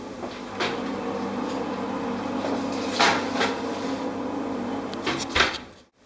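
A tray of pastry going into a preheated oven at 180 °C, with a few close metallic clunks and bumps of the door and tray over a constant hum, ending in a sharp thud and sudden quiet.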